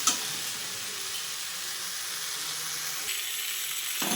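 Perandai (veldt grape) sautés uncovered in a pan, a soft continuous sizzle and hiss running evenly for a few seconds, close and moderately quiet, with no voices.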